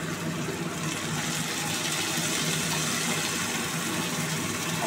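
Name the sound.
water poured from the rinsed mixer jar into the pot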